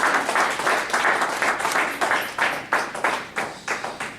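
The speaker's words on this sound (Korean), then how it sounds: "한번 힘차게 하나님께 영광의 박수 올려드리면 감사하겠습니다." A church congregation at a prayer meeting claps together in a steady, loud rhythmic applause that fills the room, with no talk over it.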